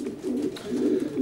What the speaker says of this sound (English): Look really, really well at the pigeons.